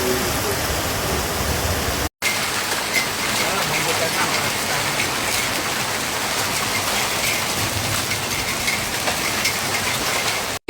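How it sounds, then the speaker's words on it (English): Torrential rain pours during a storm that flooded ditches in Zala County, Hungary, a loud, continuous hiss and patter with a brief dropout near the start. "The torrential rain filled the ditches with water"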